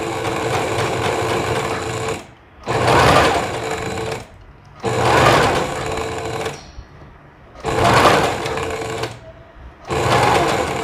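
A sewing machine stitches an invisible zipper into a flared tailored skirt, running in four loud bursts of rapid needle chatter separated by short quiet pauses.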